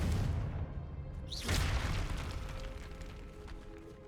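A Confringo explosive spell blast in Hogwarts Legacy: a sudden whooshing burst that swells into a deep boom, then dies away into a low rumbling tail.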